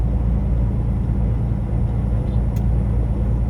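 Governed truck cruising at 64 miles per hour, a loud, steady low engine and road rumble from inside the cab with no talk.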